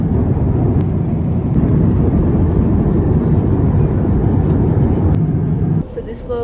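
Steady broadband cabin roar inside an airliner on a long-haul flight to Helsinki, loud and continuous, with a brief dip and change in tone near the end.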